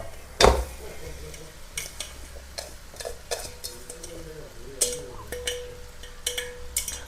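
Ripe mango is stirred into a sizzling mango pickle in a pan, with a steady sizzle under scattered spoon clicks and scrapes, one sharp knock near the start.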